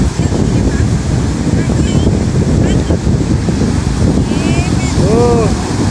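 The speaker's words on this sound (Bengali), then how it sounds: "জোয়ারটা কিন্তু আসছে ধীরে ধীরে" Incoming tide washing up on Golden Beach at Puri. A loud, continuous roar of surf comes with heavy wind buffeting the microphone, and faint chirps sound now and then.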